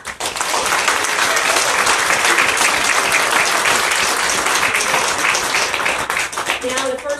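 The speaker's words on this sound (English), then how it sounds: "So big round of applause for Sarah." Sustained, loud applause fills a room at a book launch evening, a crowd clapping evenly for several seconds before tapering near the end as a voice begins to speak.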